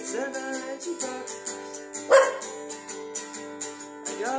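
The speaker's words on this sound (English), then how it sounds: "Got a corgi, she's got 10 and she barks." A corgi gives several short, bright barks and yips in an uneven rhythm over a sung melody, one bark standing out louder near the middle.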